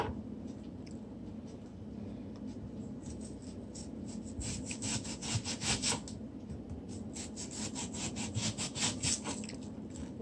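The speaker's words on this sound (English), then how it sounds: "Doesn't matter how you really want to cut the onion, because definitely it's going to boil out." Knife cutting an onion for Jamaican cow foot with yellow split peas, a series of close scraping, rasping strokes that grow busier and louder in the second half.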